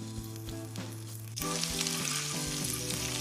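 Ginger, garlic, cumin and asafoetida hit hot oil for dal palak, bursting into a loud, steady sizzle partway through that continues to the end, with no talking.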